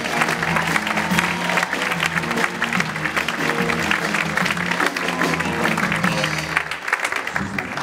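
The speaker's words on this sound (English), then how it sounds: "Everybody give a round of applause for the one and only Spencer Dobson." A comedy club crowd greets stand-up comedian Spencer Dobson with loud, sustained applause and cheering, continuous throughout with a low musical hum underneath.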